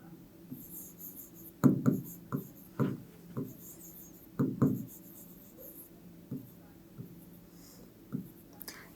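A pen scratches across paper in short strokes during a class 8 maths lesson on factorization, close and intermittent, with soft low voice sounds faintly between the strokes.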